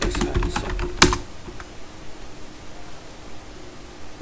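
Keys clatter on a computer keyboard in a quick burst of close typing, with one sharp louder stroke near the one-second mark, then quieter scattered taps fading into a low background hiss.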